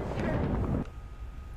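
A muffled explosion booms in the first-person shooter Killzone 2, a dense rumbling burst that cuts off abruptly, leaving quieter game ambience.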